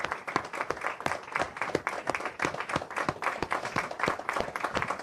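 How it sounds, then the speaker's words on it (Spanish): A television studio audience applauds, distinct close claps in an irregular patter at moderate volume, with no talking over them. "Y este es el aplauso para vos, Miguel."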